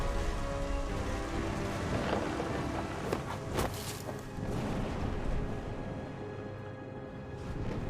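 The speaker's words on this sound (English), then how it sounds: "The thunder sounded much too close and full of angry power." Steady rain with thunder rumbling in the What Remains of Edith Finch video game, a broad continuous wash of falling water with a heavier crack or roll of thunder near the middle, loud and close, no talking.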